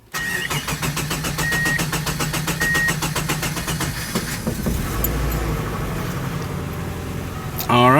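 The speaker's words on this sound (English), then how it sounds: "it took a lot more cranks than normal to start up" Subaru GC8 Impreza engine cranking over repeatedly in a fast, even rhythm before catching and settling into a steady idle, loud and close, with voices briefly heard.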